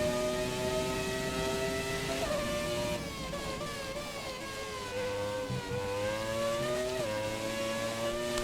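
Williams FW18 Formula 1 car engine in the racing game F1 2017, a continuous high-pitched whine that rises and falls through gear shifts, with brief dips as revs drop before climbing again.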